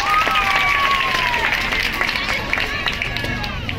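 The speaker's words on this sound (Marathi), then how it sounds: "एकदा टाळ्या व्हायला पाहिजेत" An audience at an outdoor birthday celebration for a local Shiv Sena leader claps together. The applause starts loud and tapers slightly, with crowd voices and a tone carrying over it.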